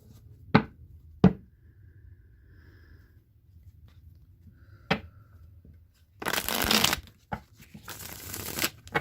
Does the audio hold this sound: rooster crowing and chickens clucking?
no